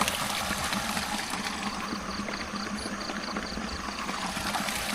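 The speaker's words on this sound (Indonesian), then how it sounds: "Wah, itu dia air mengalir." Water flows steadily with a continuous rushing, trickling sound, close and fairly even throughout, no talking.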